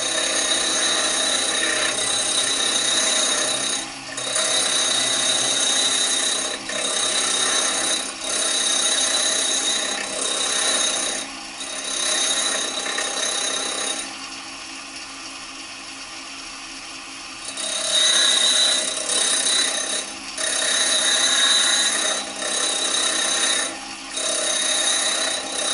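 A white stone wheel on a bench grinder is dressed, giving a loud, continuous abrasive rasping over the motor's whine, broken by short regular dips and one longer quieter stretch midway.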